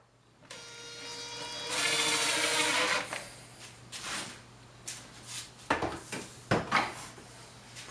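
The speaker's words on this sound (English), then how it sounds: "So there's a lot of little screws that go on this thing" Small screws being fitted into the chrome speaker cover of a Kalamazoo Model Two guitar amp, with a brief ringing metallic rattle followed by a string of light close clicks and taps, quiet and unhurried.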